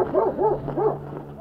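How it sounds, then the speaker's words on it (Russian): Dogs yip and bark in a quick run of rising-and-falling cries, several voices overlapping at a moderate distance. "Смотрите, собаки дикие."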